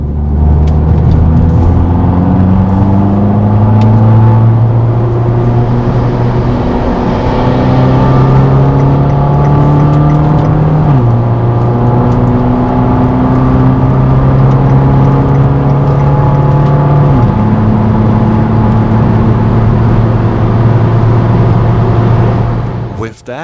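Fiat 500 Abarth with a six-speed automatic accelerating hard through Friday night traffic, its engine note rising in long sweeps and dropping at each of two gear changes, loud and close throughout.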